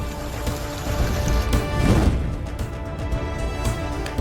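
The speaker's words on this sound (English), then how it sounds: "heavy rain hit the area due to Cyclone Idai hitting the region" Heavy rain from Cyclone Idai pours steadily in a dense, loud, continuous wash with scattered splashes and no voices.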